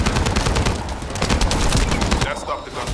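Rapid bursts of automatic gunfire in the video game The First Descendant, dense and continuous, tapering off near the end, with a voice briefly heard under the shooting.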